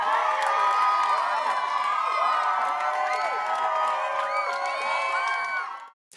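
Children at a vacation Bible school cheering and shouting, a dense crowd of young voices with some clapping that carries on for several seconds and then stops abruptly.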